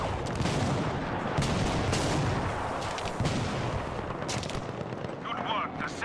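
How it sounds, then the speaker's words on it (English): Smoke barrage artillery fire in a first-person shooter video game: a dense, continuous rumble of booms and gunfire, loud and unbroken throughout. "The squad needs a smoke barrage immediately."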